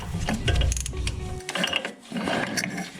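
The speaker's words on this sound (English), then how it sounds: "there's 3 Torx bolts that hold the starter motor on, so I'm going to start with the top one because it's the most awkward one" A ratchet turns a Torx bolt holding the starter motor on a flood-damaged BMW M135i xDrive, producing loud, close, rapid clicking in bursts with brief pauses between strokes and no voices.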